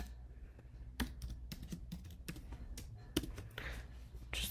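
An email address is typed on a computer keyboard as a close, steady run of clacking keystrokes, with a few heavier presses mixed in and no talking.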